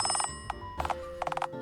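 A telephone rings in the video game Dialtown with rapid, trilling electronic bursts, a clustered ring, a single chirp, then two more clustered rings, loud and close, with no speech over it.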